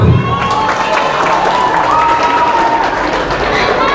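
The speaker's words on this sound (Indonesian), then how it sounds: "Berikan aplaus dulu" An audience at an Islamic religious gathering applauds in a dense, steady wash of clapping that lasts the whole stretch, fairly loud and close, with a few faint shouts mixed in.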